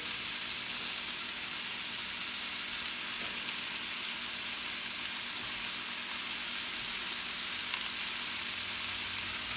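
Green and red pepper strips and fish stir-fry in a hot pan for sweet and sour fish, giving a steady, even sizzle that runs close and unbroken throughout with no voices.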